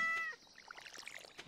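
A cat in the farming video game Stardew Valley gives one short, clear meow, followed by soft game sound effects like trickling water.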